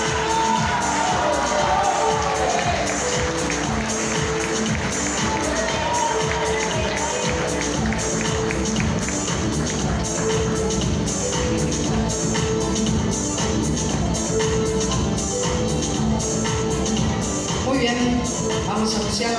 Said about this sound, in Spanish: Nosotros los miramos y los aplaudimos.